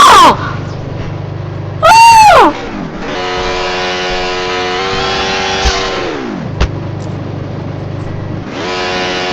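A car in Garry's Mod revs hard at full throttle, its loud engine note climbing and dropping in pitch through several surges, with a sharp screech cutting in near the start.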